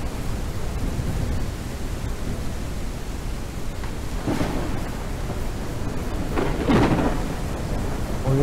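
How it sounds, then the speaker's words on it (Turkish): Steady rain hisses through a thunderstorm in the farming game Ranch Simulator, with deep rolls of thunder swelling midway and again near the end. "Sürekli yağmur yağıyor ya."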